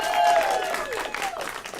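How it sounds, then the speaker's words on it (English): A live studio audience applauds in a steady wash of clapping, with a tonal whistle-like sweep and faint voices mixed in. "The live studio audience, give yourself a round of applause."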